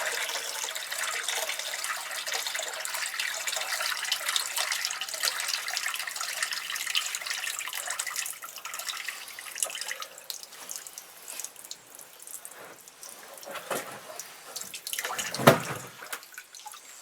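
Water draining from a removed water tank, a steady hissing splash that thins out into gurgles and a few louder sloshes near the end, close and faint.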